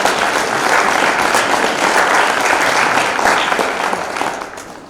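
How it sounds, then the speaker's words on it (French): Loud, dense applause from guests at a dinner and recital held at the Automobile Club de France, sustained for several seconds before gradually fading toward the end. "Je pense qu'on peut applaudir Jean-Pierre."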